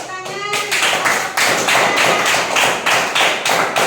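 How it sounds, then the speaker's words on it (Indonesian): Classroom of students clapping together after a pupil's answer in a primary science lesson, a steady burst of crowded rapid claps that pulses in waves, fairly loud and close throughout. "Beri tepuk tangan."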